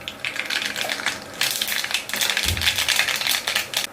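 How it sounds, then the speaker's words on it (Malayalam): Mustard seeds pop in hot coconut oil in a pan, a dense, close crackle of rapid tiny pops and spatters that swells partway through and carries on without speech. "അതിലേക്ക് അല്പം കടുക് കൊണ്ടിട്ട് പൊട്ടിക്കാം"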